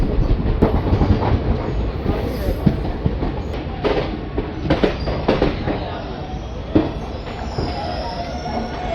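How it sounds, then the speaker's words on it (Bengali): A delayed passenger train pulls into Mokama station, its wheels squealing against the rails alongside rumbling carriages and a scatter of clicks and clanks, loud and close throughout. "নির্ধারিত সময় থেকে 45 মিনিট দেরিতে ট্রেন এসে পৌঁছালো মোকামা"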